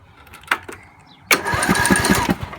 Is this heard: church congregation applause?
no